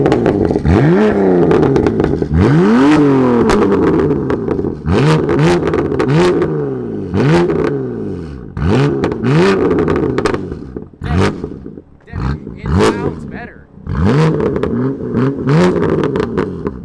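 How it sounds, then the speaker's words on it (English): A BMW F82 M4 Competition's titanium exhaust, valves closed, revs repeatedly, rising and falling in loud, throaty bursts with short pauses between; a voice briefly speaks near the end. "The factory titanium exhaust was actually a lot louder. This is toned down."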